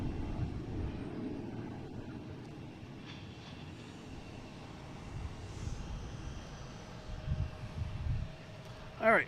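A Cessna Citation Latitude business jet departing Boston Logan, a distant, fairly quiet engine rumble that holds steady and swells slightly near the end.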